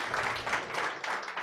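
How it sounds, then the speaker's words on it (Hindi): Church congregation at a Hindi-language sermon clapping their hands together, a dense burst of many hands in quick, uneven applause that lasts the whole moment. "ताली बजाएं"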